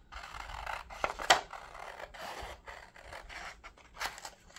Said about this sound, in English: I can use scissors because I don't need that part